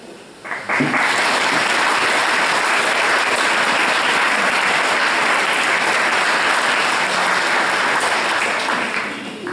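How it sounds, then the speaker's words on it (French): Congregation applauding in a church after a Catholic Mass in Cléguer, a sudden burst of dense clapping that swells quickly and holds steady and loud for several seconds. "Vous avez le droit de vous applaudir."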